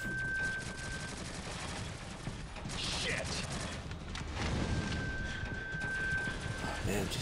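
Rapid video-game gunfire from Shadowgun Legends, an SMG or sniper in use, crackling as dense continuous bursts across the whole stretch over a busy, mechanical game soundscape, with no voice on top.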